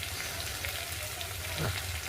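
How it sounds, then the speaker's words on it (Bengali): Spices with turmeric, salt and two spoons of chilli powder frying in a pan for masala bhindi, a steady close sizzle with a brief stirring scrape near the end. "2 চামচ লঙ্কার গুঁড়ো দিয়ে ভালো করে মশলাটা একটু ভেজে নেব"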